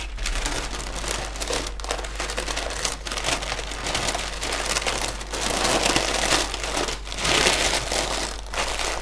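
Continuous crinkling of paper wrapped around a cake, close and fairly loud, with dense crackly rustling that swells and fades in bursts without pause.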